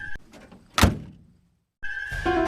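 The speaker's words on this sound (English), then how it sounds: "he hurriedly closed the car door." A car door shut hurriedly, one solid close thunk after some light rattling, followed by a brief silence and then a sustained eerie tonal drone.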